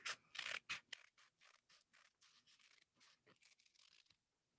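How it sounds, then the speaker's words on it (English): Scissors cutting through paper with a rapid run of short, crisp snips in an even rhythm, close but quiet, after a couple of louder rustling crunches at the start. "Then we take our scissors and we cut off the top"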